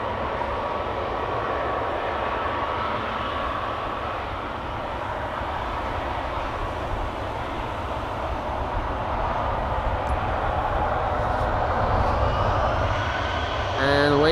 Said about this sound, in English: KLM 100 years is also coming this way. Outbound to LAX. There it is.